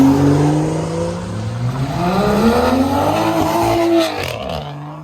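A Toyota Supra drives past at a car meet, its engine rising and revving loudly in a sweeping pitch as it passes close by, then falling away, with tire noise and no talk.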